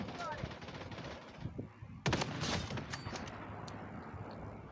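Sniper rifle fire in the online shooter Blood Strike: sharp game gunshots with a loud burst around two seconds, followed by scattered further shots and a steady low background.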